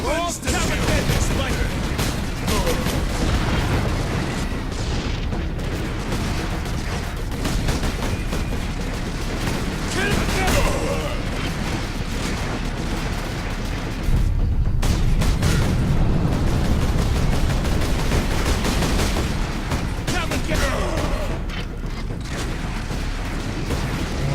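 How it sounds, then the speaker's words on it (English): Gunfire and explosions in the Warhammer 40,000 Space Marine video game, dense rapid bursts and booms mixed with game voices and music throughout. "I am shooting straight through the rock"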